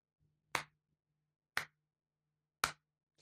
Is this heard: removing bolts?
no